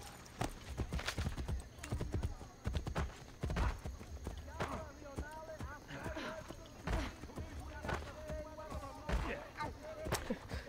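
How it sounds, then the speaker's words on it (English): Rhythmic clip-clop of horse hooves running in the video game Assassin's Creed: Brotherhood, fairly close, with a voice talking over the hoofbeats. "Is that why there's a horse behind me?"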